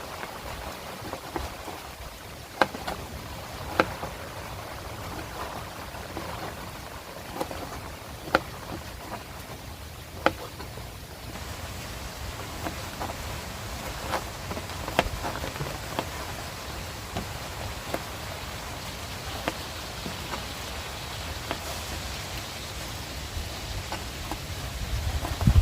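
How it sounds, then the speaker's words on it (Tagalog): Rain falls steadily on surfaces outdoors, a continuous soft patter with occasional sharper drip clicks, faint and even throughout without voices. "Maabot din talaga rito yung ulan."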